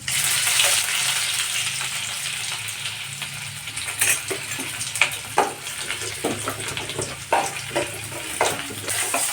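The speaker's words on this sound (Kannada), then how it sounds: "ಈಗ ನೋಡ್ರಿ ಎಣ್ಣೆ ಬಿಸಿ ಆಗೈತಿ ಶೇಂಗಾ ಕಾಳು ಸ್ವಲ್ಪ ಜೀರಿಗೆ ಬೀಜ" Peanuts and cumin seeds fry in hot oil, a continuous close sizzle with occasional sharper crackles and stirring clatters throughout.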